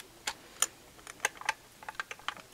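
Paper is being cut on a WeRMemoryKeepers tab punch board, producing a quiet, irregular series of sharp little clicks and snaps close by, with no voices.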